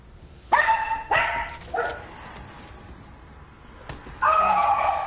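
A pet dog named Tiki barking nearby, several loud sharp barks spaced unevenly across the clip, with a pause in the middle before a final bark.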